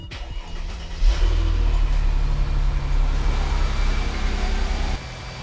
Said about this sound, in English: time to start the car, get the fluid moving around.